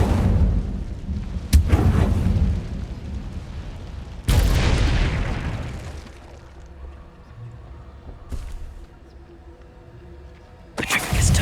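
Incendio fire spells cast in Hogwarts Legacy, heard as loud bursting whooshes at the start and again near four seconds, fading into a low rumbling tail with a few sharp cracks, and another blast at the end.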